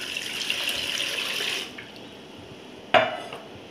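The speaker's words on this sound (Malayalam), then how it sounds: "ഒരു ലിറ്റർ വെള്ളം ഒഴിച്ചു കൊടുക്കാം." Water pours from a tap or jug into a cooking pot while making homemade jam, a steady close splashing that stops midway, followed by a sharp clink of metal.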